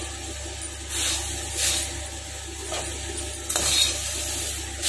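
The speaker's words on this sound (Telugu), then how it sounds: "3 కప్పుల వరకు మరమరాలు తీసుకుని డ్రై రోస్ట్ చేసుకోవాలి" Light scraping and rustling as dry puffed rice is roasted and stirred around a hot pan, over a steady low hum.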